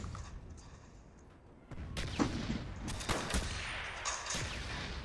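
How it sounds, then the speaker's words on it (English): Mortar rounds fall in an online shooter game. A quiet stretch gives way to a run of sharp explosive cracks and booms with a dense rumble, fairly loud and continuing for a few seconds. "What are these explosions? Mortar rounds."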